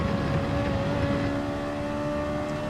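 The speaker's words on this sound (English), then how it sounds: "This car revs so much" A Ferrari Group 4 race car engine in Gran Turismo 7 revs high and steady, a constant tonal drone at moderate loudness heard alone without speech.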